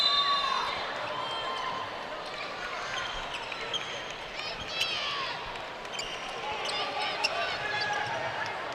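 Crowd murmur filling a gym during a high school boys' basketball game, Hazard vs Paintsville at the All A Classic, with sneaker squeaks and ball bounces scattered through the steady hum while voices talk over it.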